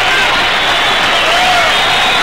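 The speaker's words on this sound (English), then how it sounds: "Oh, what an ovation." A boxing arena crowd roars in a sustained ovation as a round ends in a world title fight, a dense, loud wall of cheering and clapping filling the whole stretch without a break.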